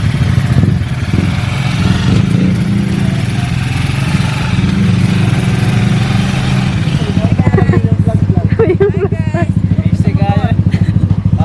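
A motorcycle engine runs close by with a steady, loud putter, its rhythmic pulsing growing sharper toward the end as voices talk over it.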